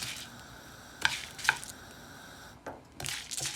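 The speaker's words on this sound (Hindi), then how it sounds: "चूल्हा बंद कर दिया और हम इसे पीसते हैं।" Roasted spices for chicken karahi being ground: a few soft crunching and scraping bursts with two short sharp clicks, near and fairly quiet, with no voices.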